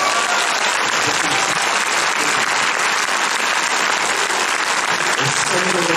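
Sustained, loud applause from a cinema audience at a screening event, steady dense clapping filling the whole stretch with no pauses.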